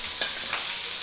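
Onions and capsicum frying on high heat, a loud, dense sizzle filling the moment with a couple of brief stirring swishes.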